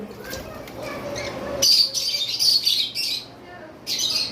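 Caged pet lovebirds, cockatiels and conures in a bird shop call close by, shrill chirps and squawks breaking out over a murmur of voices.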